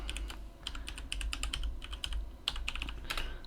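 Rapid clicking keystrokes on a computer keyboard as a password is entered, bursts of close, crisp taps with short pauses, with a low hum in the background of a Starbucks café.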